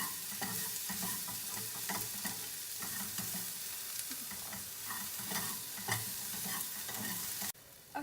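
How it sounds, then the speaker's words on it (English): Onions and green peppers fry in a pan with a constant bright sizzle, broken by repeated scraping strokes of a utensil stirring the vegetables, close and steady. "I'm just going to start stirring this up until the onions are a little bit translucent and our green peppers are a little bit soft"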